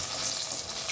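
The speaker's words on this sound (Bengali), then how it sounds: "এইভাবে আমি সব বেগুনগুলোই উল্টিয়ে ভেজে নেব" Eggplant slices frying in oil in a pan, a brief steady sizzle with a soft bubbling hiss and no talk.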